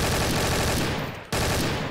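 Cluster grenades burst in Garry's Mod as a loud, rapid string of overlapping explosions, briefly cutting out for a split second before the barrage resumes just as dense.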